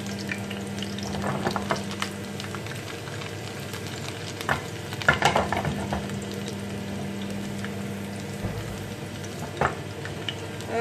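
Garlic frying in hot oil makes a steady, close sizzle, with a few louder crackles and the scrape of stirring now and then.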